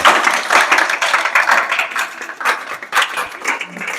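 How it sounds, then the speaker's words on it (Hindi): A group of people in a classroom claps in uneven bursts, a lively patter of hands that swells and dips a few times at close range. "हाँ तालियां बजा दो एक बार।"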